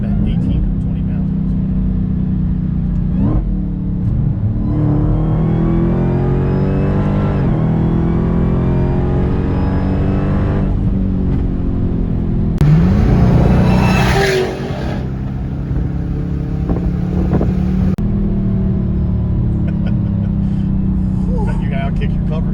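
A roughly 1,000 hp Hellcat Redeye engine pulls hard at full throttle, a loud, close, steady roar with pitch sweeping upward through the gears, one brief louder burst midway, and voices talking over it inside the car.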